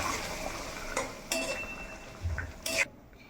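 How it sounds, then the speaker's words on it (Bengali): A spoon stirs a taro leaf and hilsa curry loosened with a little water, making a few sharp clinks and scrapes against the pot over a soft background sizzle. "খুব সামান্য একটু জল দেব আর একটু ভালো করে নাড়িয়ে নেব"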